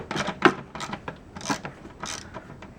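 A ratchet working loose a bolt on a Chevy Trailblazer engine during ignition coil and spark plug replacement, giving a short series of close, quiet clicking and rubbing strokes in an uneven rhythm with no talk.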